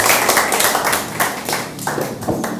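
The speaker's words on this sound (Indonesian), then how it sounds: "beri tepuk tangan dulu friend ya" An audience applauds at a live art talk show, with dense, steady clapping from a close crowd that swells in bursts for about two and a half seconds.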